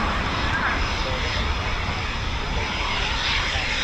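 Eurofighter Typhoon FGR4 fighter jets return to an RAF station, a steady broad roar of jet engines filling the air without a break, loud and close, with no voices over it.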